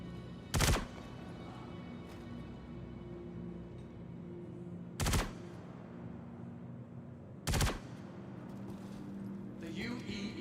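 Police gunfire at an expo in the video game Star Citizen: three sharp, isolated shots spaced several seconds apart, loud against a low ambient hum with a faint voice in the background.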